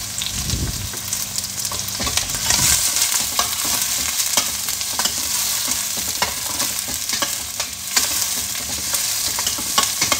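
Ginger and garlic sauté in a pan with steady sizzling, stirred the whole time, and a few louder scrapes and clatters come early on. It is a dish of queen fish sinigang, and no one speaks.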